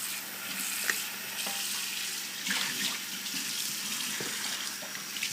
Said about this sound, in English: A little bit of soap and water inside and out.